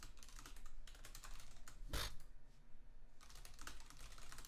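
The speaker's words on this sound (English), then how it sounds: "I'm typing what I'm saying out loud half the time." Fast, continuous typing on a computer keyboard during a game stream, with dense close key clicks and one sharp louder thump near the middle, no speech.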